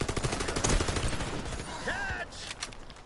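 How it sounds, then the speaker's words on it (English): Rapid gunfire rattles in a dense burst, followed by a brief ringing tone and scattered shots, from a flashbang grenade and firefight in the tactical shooter Warface. "Flashbang."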